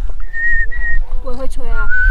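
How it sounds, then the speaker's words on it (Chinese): A yak owner whistles to make his yak raise its head beside Yamdrok Lake in Tibet, giving sustained high tones at close range while voices talk in between. "他吹口哨是要让他的那个头抬起来"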